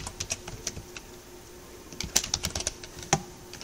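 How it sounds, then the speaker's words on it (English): Computer keyboard typing in quick, irregular bursts of close, crisp key clicks during a ReactJS coding session, with a short busier flurry near the end and no talking. "as we start typing anything into this"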